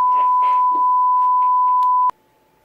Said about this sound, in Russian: Хватит пищать!